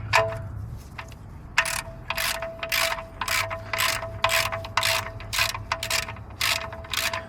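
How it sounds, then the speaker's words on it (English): A hand ratchet clicks in quick repeated bursts while loosening or tightening during an oil change on a 1999 Toyota Corolla, close and crisp over a low background hum. "So you ratchet it with this one."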